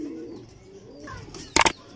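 Old Kasuri pigeons cooing, with soft low coos near the start and a brief, louder burst of fluttery calls near the end, close by and without speech.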